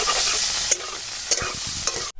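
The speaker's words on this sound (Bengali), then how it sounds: "বন্ধুরা কড়াই তেল গরম হয়ে গেছে, লঙ্কাগুলা ছেড়ে দেবো, দিয়ে একটু ঘেটে নিতে হবে" Green chillies sizzling in hot mustard oil in a wok, a bright continuous frying hiss with a few scraping stirs and clinks of the spatula, close and loud.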